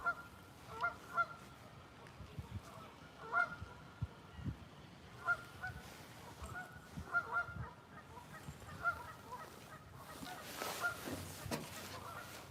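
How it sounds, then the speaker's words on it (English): A flock of geese flying overhead at a night catfishing spot, honking in loose repeated calls at moderate distance over low background rumble and occasional knocks, with no talking. "They're coming down this way. That's why you can hear them."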